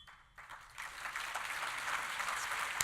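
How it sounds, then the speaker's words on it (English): Audience clapping for public servants at a Greenway breakfast keynote, faint at first and then swelling into steady, dense applause from a large room. "Thank you for clapping for them."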